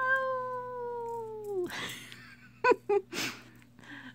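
A cat meows a long, clear, falling cry while playing with a feather boa toy, followed by short breathy chirps and a couple of brief squeaks, close and alone over a steady low hum.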